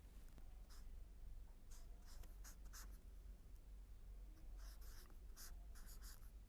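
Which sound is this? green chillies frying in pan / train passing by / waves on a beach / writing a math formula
writing a math formula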